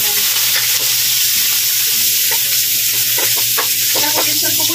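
Garlic and red onion sauté in a hot pan, a loud continuous sizzle up close with scraping stirring strokes and small crackles running throughout.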